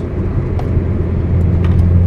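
A car engine hums steadily on a highway during a manual-gearbox downshift, a close, continuous rumble whose pitch and loudness rise slightly toward the end, with no voices.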